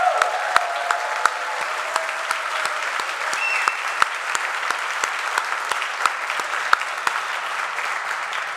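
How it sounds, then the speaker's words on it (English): Steady crowd applause at a college commencement for Bachelor of Arts graduates, a continuous field of clapping with a few sharp, nearer claps standing out and faint background tones running under it. "One more round of applause for this group of Bachelor of Arts recipients."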